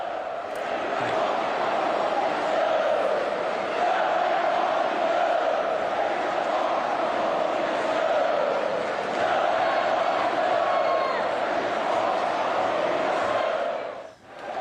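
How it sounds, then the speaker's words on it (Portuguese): A large football crowd at Allianz Parque in São Paulo chants and boos in a steady, dense roar that fills the stadium, loud and continuous throughout before dropping away sharply at the very end. "a gente pode ouvir o intervalo quando a torcida canta e vaia"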